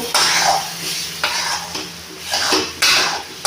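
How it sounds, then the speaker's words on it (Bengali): Ground lentil paste worked together with spices in a pan for dal puri filling, loud repeated scraping strokes of a spoon against the pan in an uneven rhythm over a faint sizzle, close and alone. "ডাল বাটাটা মশলার সঙ্গে ভালোভাবে মিশিয়ে নেব।"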